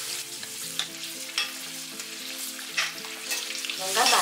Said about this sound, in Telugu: ఈ నూనె వేడైన తర్వాత మనం ముందుగా రెడీ చేసి పెట్టుకున్న ఉసిరికాయలను ఈ నూనెలో వేసి వేయించుకోవాలి.